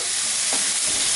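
Minced meat frying in a pan, a dense continuous sizzle with a brief scrape of stirring in the middle.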